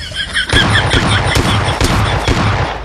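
Shotgun blasts from an S12K in PUBG Mobile Lite gameplay, several loud sharp bursts repeating in a quick irregular rhythm over busy game noise and ringing tones.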